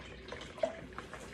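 Water dripping from wet hands onto a kitchen floor while baking sourdough bread, a few soft irregular drips and splashes, close and faint, with one brief sharper drop midway and no talking.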